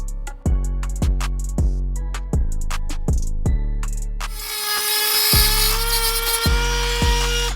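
Power tool cutting through the metal governor arm of a Coleman BT200X mini bike engine, heard as repeated loud, close bursts of harsh tool noise with short pauses, ending in a sustained high grinding whine.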